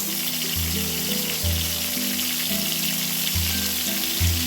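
Eggplant slices (begun bhaja), rubbed with salt and turmeric, frying in hot oil with a steady, close sizzle throughout, overlaid by a low tonal hum that shifts pitch every second or so.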